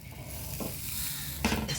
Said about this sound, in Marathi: चपाती आपली अर्धवट भाजलेली ना अशी कच्ची आहे त्याच्यामुळे हे आता भाजते व्यवस्थित कमी गॅसवरच